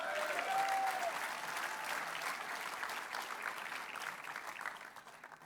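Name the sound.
applause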